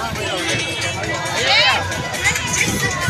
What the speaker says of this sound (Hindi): बहुत ज़्यादा भीड़ है यहाँ देखिए